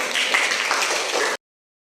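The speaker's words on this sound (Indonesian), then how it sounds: "Beri tepuk tangan untuk kelompok satu" Brief burst of classroom applause for group one, students clapping together in a dense, steady wash for just over a second before cutting off abruptly to silence.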